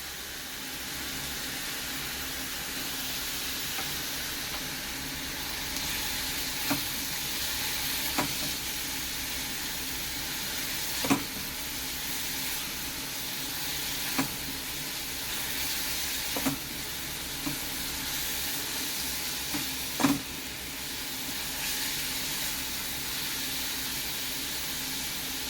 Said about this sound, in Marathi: ह्याच्यात मी लसूण टाकणार आहे आता. ही सर्व लसूण जाईल ह्याच्यात.